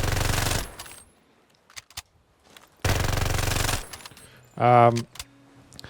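Automatic weapon fire in the shooter game Farlight 84 while the player spams crouch: two loud sustained bursts of rapid shots, with small clicks and movement sounds between them and a short mechanical reload-like rattle near the end.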